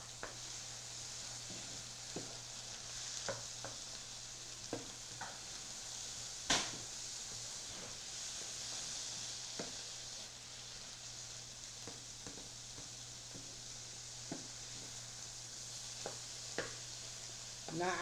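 Drained canned tomatoes cook in a pan with a soft steady sizzle, broken by scattered spoon taps and scrapes as they are stirred and chopped, over a low constant hum.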